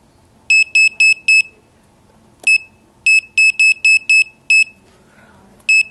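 Electronic alarm beeps from a Fieldpiece SMAN4 wireless four-port digital manifold signalling its micron vacuum setpoint: bursts of sharp, high, rapid beeps in quick groups, separated by pauses, close and loud against a quiet shop background.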